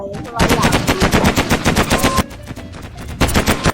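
Rapid automatic gunfire in the Mini World video game space-war map, shooting at a spaceship: dense, loud bursts of machine-gun shots with a brief dip before the firing picks up again.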